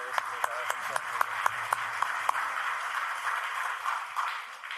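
A church congregation applauds a guest pastor at a Sunday afternoon teachers' dedication service at Jochiwon Yeongnak Church, with sharp claps ringing out at a steady rhythm over a steady background murmur for a couple of seconds before fading.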